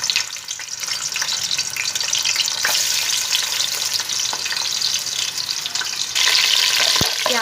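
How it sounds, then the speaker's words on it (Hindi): Onions fry in hot oil in a pot for a mixed vegetable pulao, making a steady, close crackling sizzle broken by stirring scrapes, and the sizzle swells louder near the end. "तो मैं अब तेल डाल दिया। सबसे पहले इसमें मैं प्याज डालूँगी।"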